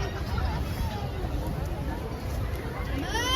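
Crowd gathered outdoors at the Lysfest Christmas festival at Festplassen in Bergen, a steady murmur of many voices babbling at a distance, fairly quiet.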